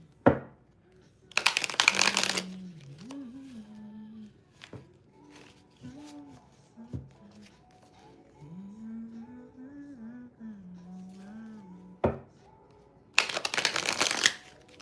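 Tarot cards are riffled in two brisk, crisp bursts, one near the start and one near the end, with a low humming voice in the quiet stretch between them.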